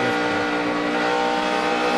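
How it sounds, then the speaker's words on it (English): A NASCAR Cup car engine with over 200 more horsepower than Nationwide cars revs hard on the throttle at a racetrack, a loud, sustained high-pitched roar that shifts slightly in pitch. "you hear Jimmy working that throttle?"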